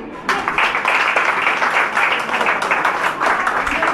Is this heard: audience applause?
yes